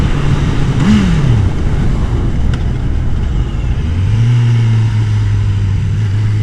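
A Honda CB1000R motorcycle fitted with an aftermarket exhaust pipe revs loudly at close range, its engine note rising briefly and then settling into a steady, droning hum.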